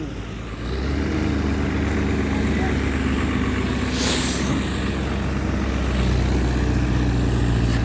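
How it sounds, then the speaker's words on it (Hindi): Modified HMT 6211 tractor on double rear tyres fitted with a truck engine, running with a loud, steady diesel roar that stays close and constant throughout, no talk over it. "ले भाई, ट्रक के इंजन के साथ में पेश है ट्रैक्टर HM 6211 डबल टायर में"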